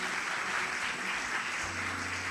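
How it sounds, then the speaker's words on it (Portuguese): Church audience applauding together, a steady, dense wash of clapping that fills the space evenly from start to finish, with a low hum entering near the end. "Você pode dar uma salva de palmas para eles?"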